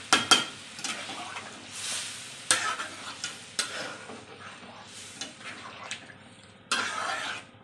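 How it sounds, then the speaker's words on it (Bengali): Hot water goes into a pan of simmering soybean curry, setting off bursts of sizzling and bubbling, with scattered clinks and stirring knocks of a utensil against the pan and a sharp hiss near the end. "গরম জল দিয়ে দিলাম"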